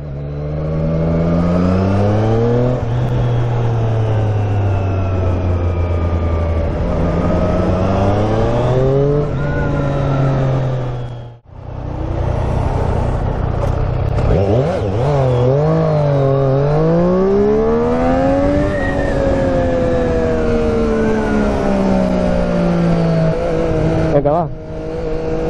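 A Triumph Street Triple RS, a 123 hp hypernaked motorcycle, accelerates hard and close by. The engine climbs through its revs, drops briefly at a gear change, then winds up again in long, rising pulls.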